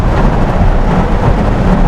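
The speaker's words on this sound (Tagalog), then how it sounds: "Ilang buhos ulan. Lakas." Heavy rain pours down steadily in a broadband wash, heard from inside a BYD car during a sudden downpour, loud and constant with no breaks.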